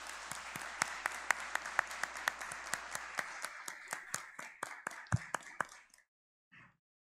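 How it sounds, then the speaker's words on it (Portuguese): Applause from a modest audience at a civic ceremony honoring women of the city: crisp, separate hand claps in a fairly steady rhythm that thin out and stop near the end, followed by a brief faint sound. "E um aplauso a todas vocês."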